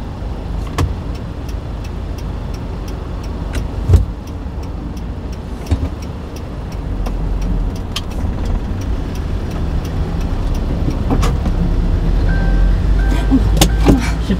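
A car sets off and drives on a road during a driving test, with a low steady engine and road rumble building gradually, occasional clicks and thumps inside the cabin, and a faint electronic beep near the end.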